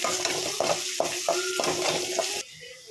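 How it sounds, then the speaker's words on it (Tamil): Sliced onion sautéing with curry leaves in a pan makes a close, busy sizzle with rhythmic scraping strokes of stirring, ending abruptly into quieter hiss after about two and a half seconds. "வெங்காயம் நல்லா பொன்னிறமாக வதக்கிக்கலாம்"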